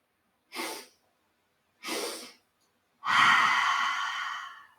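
Deep yoga breathing heard close up: two short, soft breaths separated by pauses, then a longer, fuller exhale that trails off slowly, with no talking.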